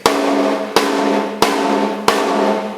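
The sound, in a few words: blast stick bamboo rods hitting drum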